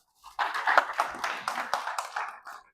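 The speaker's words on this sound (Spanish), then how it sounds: "un aplauso para él" A small group at a conference talk on mycorrhizae claps in scattered, uneven bursts for a few seconds, moderately loud and fairly close, with no talking over it.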